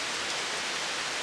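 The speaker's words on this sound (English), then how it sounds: "And it's raining again" Steady rain falling outside, seen from a front porch, a soft even hiss of drops with no other sounds.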